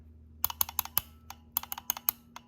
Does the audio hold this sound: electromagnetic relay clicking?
yes